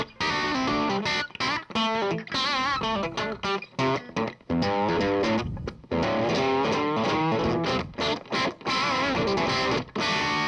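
Gibson Les Paul electric guitar played loud through an amp with distortion and effects, steady chords and riffs ringing almost continuously with brief gaps, no voice over it.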